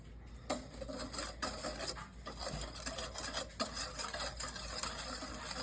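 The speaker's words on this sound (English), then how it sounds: "Now I'm gonna whisk for a minute." A batter with vanilla extract is whisked by hand in a bowl: quick, rhythmic rasping strokes of the whisk, close but fairly quiet, continuing steadily without any speech.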